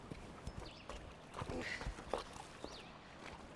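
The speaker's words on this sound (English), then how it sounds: "The horses come here to drink." Soft hoof clops of a horse walking in a western video game, irregular and fairly quiet, over a faint background ambience.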